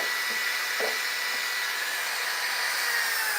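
A power sander running steadily while a wooden sign is carved, a constant close whirring drone with a few faint taps and no talking.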